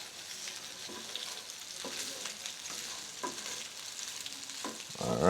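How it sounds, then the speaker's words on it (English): Pasta sizzles steadily in a frying pan while alfredo sauce is stirred in. Scraping spoon strokes come at a regular rhythm over a constant close hiss, ending with a louder clatter. "Then we're gonna add in our alfredo sauce."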